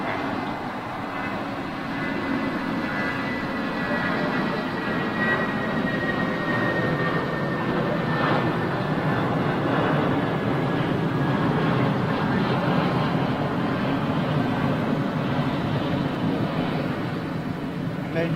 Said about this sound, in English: have an Emirates 380 inbound.